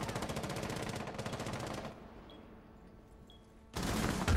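Rapid automatic gunfire in a first-person shooter game blasts loud and close for about two seconds, falls to a quiet stretch, then a fresh burst erupts near the end.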